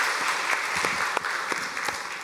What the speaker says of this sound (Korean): 우리 한번 응원의 박수 한번 하도록 하겠습니다.